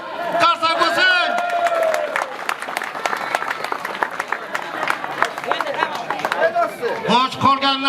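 A round of clapping from a crowd at an Independence Day street celebration in Uzbekistan, with dense hand claps blending with chatter and voices throughout.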